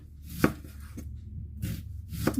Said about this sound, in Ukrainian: Ось так подавили його цибульку, нарізаю отакими кільцями.